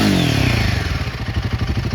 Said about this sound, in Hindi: तो भाई एग्जॉस्ट साउंड तो इसकी एक नंबर है।